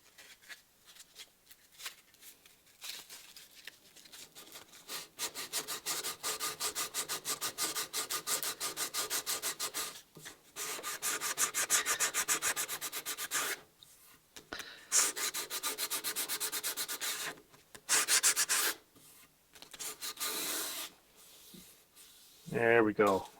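Hand sanding of a wooden boat's breasthook with 80-grit sandpaper, close and steady, in repeated rasping strokes that stop and start in bursts over the whole stretch.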